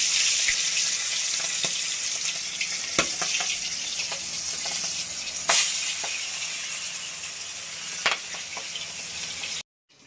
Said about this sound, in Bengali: এই দেখুন তেল গরম হয়ে গেছে, এবার আমি বোয়াল মাছ একে একে ছেড়ে দেবো।